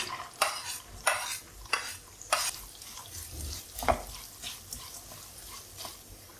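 Carrots and beans with curry leaves sautéing in a pan, a spatula scraping and stirring in regular close strokes over a light sizzle, moderately quiet with no talking.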